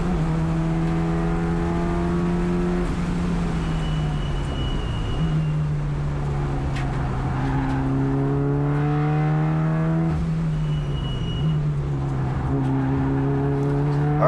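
A Mitsubishi Lancer Evolution engine on a race track at Thunder Hill East, droning steadily at high revs with rising and falling pitch across several gear changes and throttle blips, loud and close throughout with no talk.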